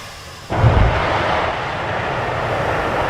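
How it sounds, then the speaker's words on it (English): Night liftoff of a SpaceX Falcon 9 rocket: a sudden loud, broadband roar bursts in after a quiet half-second and holds as a steady, dense rumble to the end, with no talk. "Liftoff. Falcon 9 has cleared the tower."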